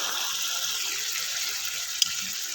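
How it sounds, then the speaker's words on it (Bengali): Water pours steadily into green chili paste in a cooking pot, a continuous close splashing wash with one small clink near the end, no voices. "কাঁচা লঙ্কা বাটা সামান্য একটু জল দিয়ে দিচ্ছি"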